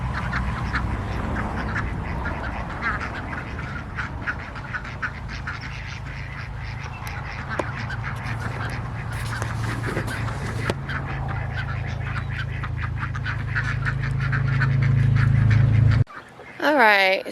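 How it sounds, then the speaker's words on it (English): Ducks quack and honk in a front yard at a moderate distance, scattered calls repeating over outdoor ambience, with a person talking over them and a louder burst near the end. "The ducks always come out my front yard."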